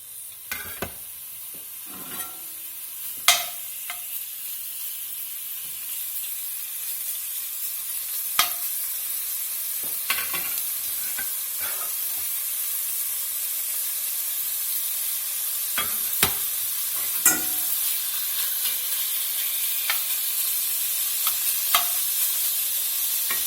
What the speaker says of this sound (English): A little olive oil in. We're going to start browning this pork off.